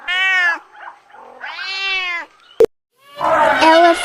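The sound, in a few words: cat meowing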